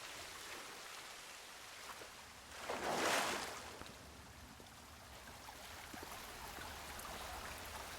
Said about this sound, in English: How's the volume on this water? Because this feels pretty loud.